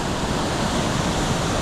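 Heavy water pouring over a waterfall at Valley Falls State Park, a loud, steady broadband roar close by with no break across the whole stretch.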